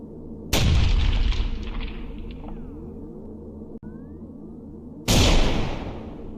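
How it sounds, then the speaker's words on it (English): Bamboo bursts on a campfire with two sharp, loud bangs a few seconds apart, each followed by a fading rumble. "it's at that moment the bamboo starts to explode on the fire"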